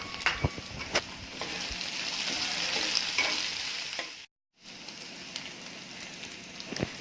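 Peanuts stirred into a mixture frying in a pan, giving a steady sizzle with scraping and clinks of the spoon, close and continuous apart from a brief gap.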